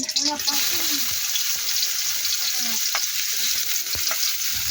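Garlic sautéing in a pan for adobong kangkong gives a bright, continuous frying sizzle, loud and close, with scraping stir strokes and a voice talking briefly near the start.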